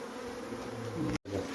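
A dense swarm of Apis cerana honey bees drones on, heavy enough to fill a traditional hive box, as a close, continuous buzzing hum that breaks off for a moment near the end.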